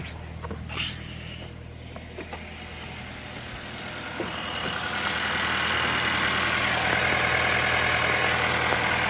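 A 2023 Subaru Impreza engine idles steadily and fairly close while parked, a low continuous rumble that grows slightly louder and rougher toward the end.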